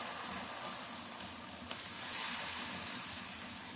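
Flour-and-potato snacks sizzle in hot oil over a lowered gas flame, a steady close crackle of frying that runs the whole time with a few brief pops and no talk.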